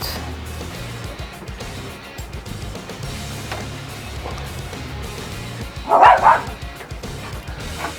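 A dog outdoors gives a short burst of two or three close barks partway through, standing out against a quiet background.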